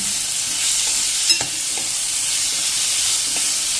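Chopped onion and a medium tomato fry in a pan under a continuous, dense, hissing sizzle, with a few faint spatula taps and one slightly sharper knock partway through.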